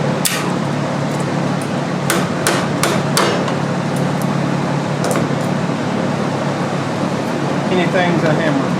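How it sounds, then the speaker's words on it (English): Sharp metal hammer strikes ring out during a front strut replacement on a Hyundai Santa Fe, a quick cluster of loud blows followed by a few scattered hits over a steady fan-like background hum. "Anything's a hammer, apparently."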